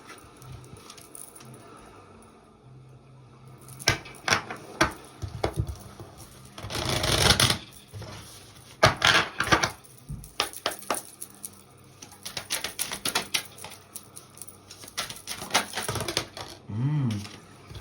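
Oracle cards being shuffled and handled, a quiet run of soft slaps, riffles and clicks with a denser flurry partway through and scattered taps afterward, close by with no talking.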